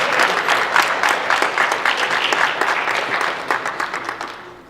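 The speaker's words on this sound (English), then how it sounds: "Please give them a round of applause." An audience at a high school National Honor Society induction ceremony claps in a sustained round of applause, dense and fairly loud, tapering slightly toward the end.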